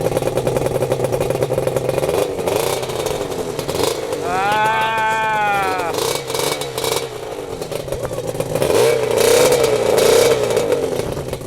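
A Suzuki two-stroke motorcycle engine revs up and down nearby, its buzzing, crackling note rising through a sharp throttle blip in the middle before falling back to a rough, busy idle.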